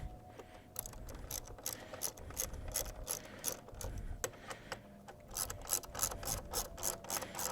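A hand ratchet tightening fog light fasteners on a Chevrolet Sonic, heard as quick bursts of close, crisp pawl clicking in repeated strokes with short pauses between them.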